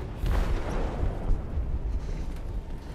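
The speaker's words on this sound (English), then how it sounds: "They detonated an explosive in the hold." An explosive detonates in a ship's hold in the video game Detroit: Become Human, heard as a loud, deep rumbling roar that holds steady for about three seconds with no voices over it.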